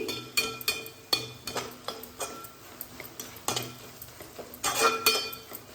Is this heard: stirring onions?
yes